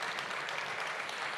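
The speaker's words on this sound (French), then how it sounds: "est-ce que vous auriez la gentillesse de les applaudir?" A conference audience at a talk on mountain destinations applauds invited guests in a short, faint, steady patter of many hands clapping.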